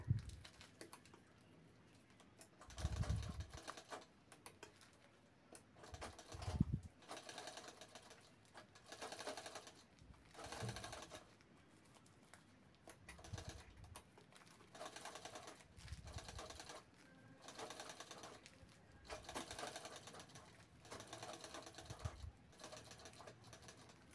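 A sewing machine stitches all the way around a fabric sling bag in repeated bursts of rapid mechanical clatter, stopping and starting between runs, close and fairly quiet.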